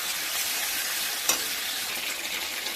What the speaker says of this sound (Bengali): পেঁয়াজ ভাজা হয়ে গেছে, আদা জিরে রসুন বাটাটা দিয়ে দিলাম এর মধ্যে। দিয়ে ভালো করে নাড়াচাড়া করতে হবে।